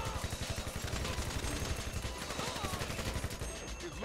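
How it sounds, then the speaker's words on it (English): Dense, continuous gunfire in the video game GTA Online during a Diamond Casino heist, rapid overlapping shots from several guns at a steady loud level, with faint voices underneath. "Bullets."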